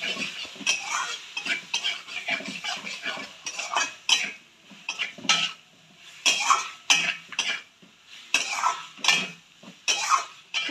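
Boiled potatoes stirred into a fried spice masala in a pan for dhokar dalna, with repeated close scraping and clinking of a utensil against the pan in short irregular bursts.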